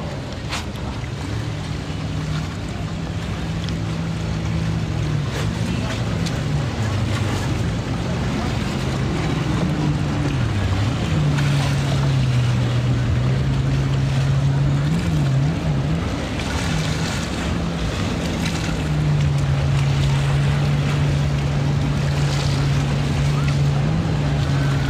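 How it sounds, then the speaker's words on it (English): Party boats motor across open water at a Miami waterfront, a steady low engine drone with shifting pitch under constant wind and wave wash, continuous and moderately distant. "we got two nice boats here, like two party boats"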